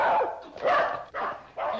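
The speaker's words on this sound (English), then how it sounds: "I haven't heard Corky bark in ages" A dog barks in four loud, close bursts in quick succession, with short gaps between them and no other sound standing out.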